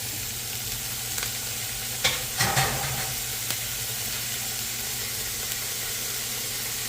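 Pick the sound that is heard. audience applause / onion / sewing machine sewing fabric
onion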